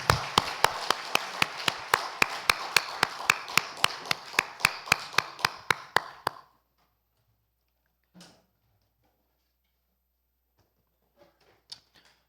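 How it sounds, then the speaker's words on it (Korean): A church congregation at a Korean Sunday worship service claps in unison: about twenty even, rhythmic claps at a brisk, steady pace, which stop abruptly and leave near silence broken by a few faint taps. "하나님께 영광의 박수 올려드립시다."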